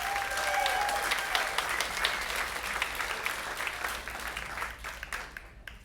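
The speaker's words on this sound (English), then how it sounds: "give them a quick round of applause" An audience applauds a birthday server at a stand-up comedy show, a full room of clapping that starts strong and gradually thins out and fades over several seconds.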